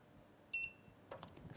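A short, bright electronic beep from a Sunny Island inverter switching on sounds once, followed by faint clicking and rustling handling noises in a quiet room.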